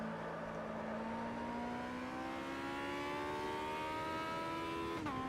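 A Camaro race car on the Oschersleben track in the Automobilista racing game, its engine holding a steady droning tone that slowly climbs in pitch as it accelerates, heard alone and fairly quiet.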